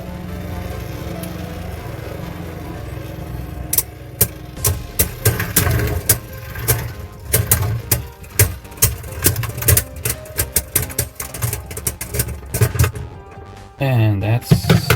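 Spinning Beyblade tops battle in a stadium, the reverse plate scraping along the floor as a steady whirring grind broken by a rapid run of sharp clicks and clacks from collisions, with a voice talking under it and a brief whoosh near the end.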